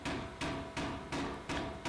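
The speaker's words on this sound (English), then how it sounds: "I'm doing this under the power hammer" A power hammer draws out the end of a steel bar at a blacksmith's forge while an Anglo-Saxon adze is being forged. Five loud, close, evenly spaced blows land in a steady rapid rhythm, with no talking.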